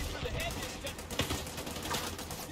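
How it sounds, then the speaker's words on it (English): Rapid automatic gunfire in The Division 2: Warlords of New York, a dense continuous rattle of shots with a few sharper cracks, loud and close, with some faint voice mixed in. "I didn't see who's shooting me."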